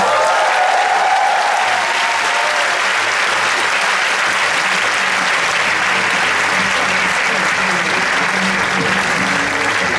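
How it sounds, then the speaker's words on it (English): Loud, sustained applause from a large audience fills an opening ceremony hall at the AIESEC International Congress 2012 in Russia, a dense, steady roar of clapping lasting the whole stretch with crowd murmur mixed in. "Let's give another round of applause for Manana Bapiashvili, CCP of IC 2012."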